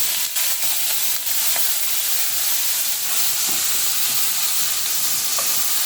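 Chopped onions fry over a medium flame in a pan for a rohu fish and potato curry. A loud, steady sizzle and hiss runs through the whole clip with a few faint clinks and scrapes.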